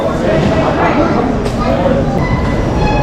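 Busy UK railway station concourse ambience, with a steady wash of crowd murmur, footsteps and distant rail noise filling the whole stretch at constant loudness.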